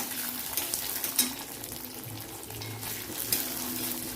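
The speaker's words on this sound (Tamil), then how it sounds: "கடலைப்பருப்பு உளுந்து நான் போட்டு நல்லா புளியிற அளவுக்கு ஃப்ரை பண்ணிக்கோங்க" Chana dal and urad dal frying in hot oil, giving a steady, soft sizzle with occasional stirring clinks, close and fairly quiet with no talking.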